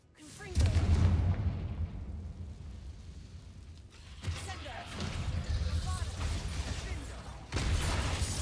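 Confringo fire spell blasts in Hogwarts Legacy, with a heavy booming explosion near the start, a second burst around the middle and another at the end, set over a continuous rumbling low-end bed of game sound.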